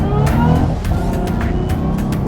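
A V6 project car fitted with an upgraded 8.8 rear end accelerates hard on pavement, its engine roaring loud and close with a steady rising pull and faint tire noise.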